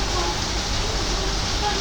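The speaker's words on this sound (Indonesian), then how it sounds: "di luar lagi hujan sih" Steady rain falls outside, a dense, even hiss that carries through the whole short stretch without a break.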